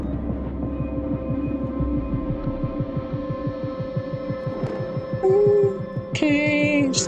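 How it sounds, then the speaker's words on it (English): Tense horror score from the game Alien Isolation, a low throbbing pulse beating like a slow heartbeat under a droning hum, joined near the end by eerie sustained tones and a brief shrill sting. "There's scary music."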